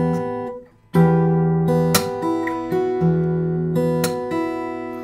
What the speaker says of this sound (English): it's called thumb slap because we slap the string with the fleshy side of the